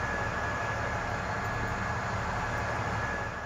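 Steady broad rumble and rushing hiss of the Al Haramain high-speed train in motion, constant and fairly loud throughout with a faint high whine on top, no speech.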